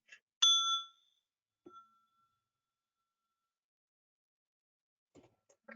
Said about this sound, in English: we have white and black bells that are set up like the white and black keys of the piano